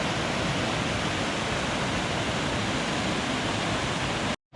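Water rushes down a cascade in Glacier National Park, a dense, steady roar of flowing and splashing water heard up close and loud throughout, cutting off abruptly near the end.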